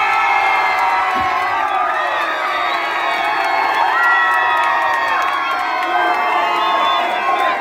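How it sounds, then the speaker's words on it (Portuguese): A dense carnival crowd at a street bloco in Conceição, Paraíba, screams and cheers nonstop, with shrill whoops and high shouts layered into a loud, continuous roar. "Gritos para Eduarda Caroline"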